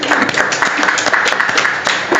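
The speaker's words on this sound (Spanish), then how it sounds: "Aplausos con cariño." Applause from students in a classroom, a dense run of clapping hands lasting a couple of seconds at steady, fairly loud level with no talk over it.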